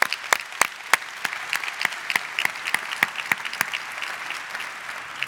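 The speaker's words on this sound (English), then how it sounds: "Jim, you need a big applause for that," Audience applause at a public day session of the International Astronautical Congress 2018, a sparse group clapping with distinct individual sharp claps in a quick uneven rhythm, fairly close and steady for several seconds, with no talking over it.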